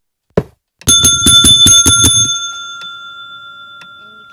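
A desk bell in the Minecraft Bibliocraft mod, struck once, then dinged six times in quick succession, bright metallic rings leaving a long fading tone, clear and alone.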